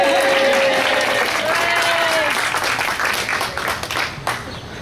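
Applause from a teaching-awards audience greeting an award winner who is absent, a steady wash of many hands clapping throughout, with a faint tonal whistle and some talk underneath.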